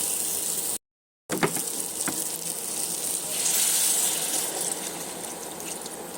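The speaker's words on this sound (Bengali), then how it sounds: "ভালো মতো ভাজা হয়ে গেছে, এর মধ্যে দিয়ে দেবো অ্যাড করব জল।" Water poured into a pan of frying spices and salt, a loud hiss and sizzle with splashing that carries on steadily after a brief gap, no talk.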